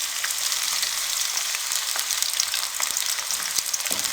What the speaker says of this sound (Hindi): अब इसमें हम कटी हुई प्याज डाल देंगे।